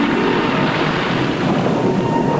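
A desert thunderstorm roars as a dense, constant wash of loud broadband noise, like heavy rain with distant rumbling thunder, running steadily without breaks or voices.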